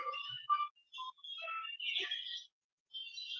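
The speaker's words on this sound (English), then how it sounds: "I'm getting a phone call at the wrong minute" A mobile phone ringtone chirping in a pattern of short, high electronic tones with brief gaps, quiet and heard alone.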